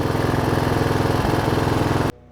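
Riding lawn mower tractor engine running, a loud close pulsing chug with a steady rapid beat that cuts off abruptly near the end, leaving faint quiet.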